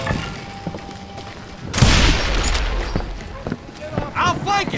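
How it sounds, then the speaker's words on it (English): Gunfire in a street shootout in Call of Juarez Gunslinger, a sharp, loud blast followed by scattered shots, thuds and running amid shouting voices. "shooting in the street!"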